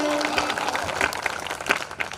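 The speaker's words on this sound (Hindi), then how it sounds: "एक बार जोरदार तालियां बजाइए" Audience applause at a large Hindi poetry gathering (kavi sammelan) at a holy site, a steady crowd clatter lasting a couple of seconds at moderate level with no talk over it.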